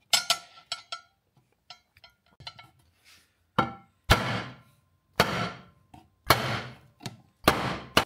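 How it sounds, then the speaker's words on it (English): A hammer taps on the pointed ends of a CNC-machined prototype engine mount part to mark four holes, giving a series of sharp metallic strikes, faint at first and then louder, evenly spaced and ringing briefly, with no talking. "I'm gonna tap on them with a hammer"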